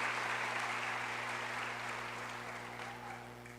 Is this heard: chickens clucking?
no